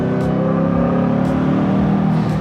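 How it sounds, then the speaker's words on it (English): A turbocharged Subaru BRZ of roughly 300 wheel horsepower with a crackle exhaust tune, accelerating up a freeway on-ramp as a loud, dense engine drone with a rising rumble, heard from inside the car with no talk. "Have you guys heard enough of the crackle tune yet?"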